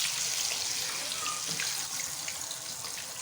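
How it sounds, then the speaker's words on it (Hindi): Marinated fish for a Lahori-style lemon fish fry, dropped into very hot, boiling oil, giving a steady, loud, close-up sizzling hiss that fades slightly toward the end, with no talking. "ऑयल बहुत अच्छी तरह से गर्म हो गया है। अब इसमें डाल दें जी फ़िश।"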